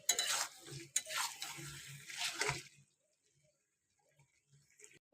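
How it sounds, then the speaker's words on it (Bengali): Potatoes and meat are sautéed and stirred in a pan, with close scraping and sizzling for the first half before the sound drops to near silence and a few faint clicks. "আবারও সেম ভাবে কষিয়ে নেব আলু আর মাংসটা"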